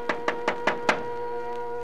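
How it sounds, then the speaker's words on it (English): Five sharp, evenly spaced knocks strike a door in quick succession, then a brief pause before another knock, set against a steady musical background. "two suspicious-looking men knocked at the door"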